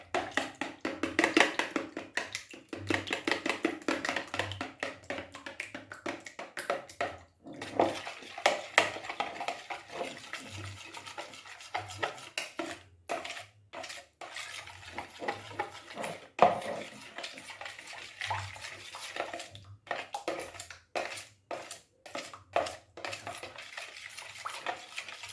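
Egg bread batter with a little milk whisked in a bowl, a utensil scraping and clinking against the sides in quick, fairly steady rhythmic strokes with a few brief pauses, close and moderately loud, no voices.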